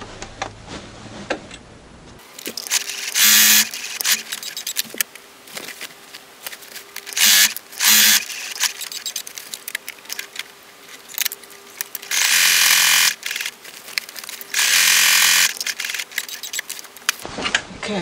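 A sewing machine runs zigzag stitches across a fabric patchwork laundry bag, loud close mechanical whirring in several bursts separated by quieter pauses and handling clicks.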